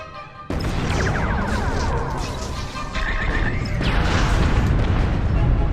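An enemy starship explodes after a torpedo hit in Star Trek Bridge Crew VR: a sudden loud boom half a second in, then a rumbling roar that swells again midway and keeps going.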